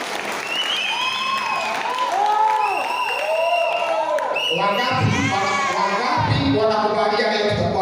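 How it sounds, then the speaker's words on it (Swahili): Wedding guests at a Kikuyu ceremony break into loud, steady applause mixed with cheering, whoops and children's shouts, with speech audible throughout the crowd. "Wapi makofi ya Mary wa Heze ndogo?"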